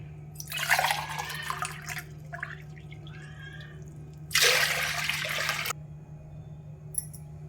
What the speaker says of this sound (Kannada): ನಾನು ಎರಡು ಅರ್ಧ ಗ್ಲಾಸ್ ನೀರು ತೊಗೊತೀನಿ